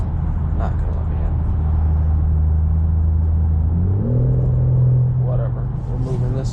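A BMW M4 Competition driven on the road, heard from inside the cabin as a loud low engine drone whose pitch steps up partway through, with faint voice-like sounds over it.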